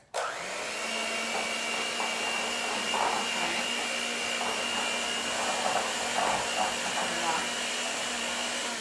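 An electric mixer whirs steadily and close by as it beats blondie batter in a bowl, a continuous high whine with faint rhythmic scraping against the sides.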